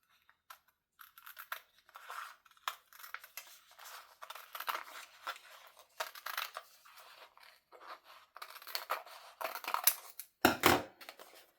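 Scissors cutting through a rub-on transfer sheet, with irregular snips, crinkles and rustles of the sheet close up, and a louder crunchy burst near the end, no talking.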